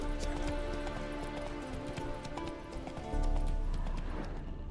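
Horse hooves clip-clopping steadily in The Witcher 3, the horse moving at a quick pace with a louder burst near the end, under dense game music and ambience.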